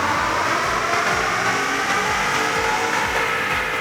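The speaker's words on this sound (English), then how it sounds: "We're going to take a baseline run on the dyno with our 16 with 93 in the tank" A 2015–2016 Ford F150 with the 3.5L EcoBoost engine, running 93-octane fuel, revs hard on a dyno during a baseline run, producing a loud, continuous, steady engine roar with no talking.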